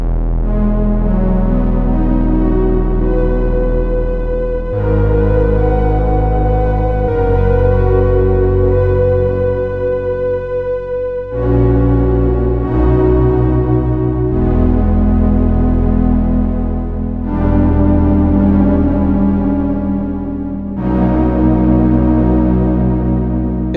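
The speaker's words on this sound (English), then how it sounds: "the low string sound is one of the all-time classic Oberheim" Classic low string patch on an Oberheim OB-X8 synthesizer, sustained, rich chords shifting every few seconds, loud and continuous with no voices.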